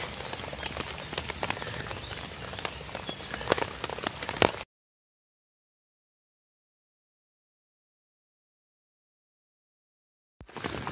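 Rain patters on a wild camping tent in a steady fine hiss with scattered drops for several seconds, then the sound cuts to silence before resuming briefly at the end.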